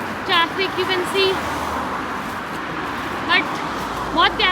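Highway traffic on London Road in the UK makes a steady broadband roar, with passing vehicles swelling and fading while someone talks over it throughout.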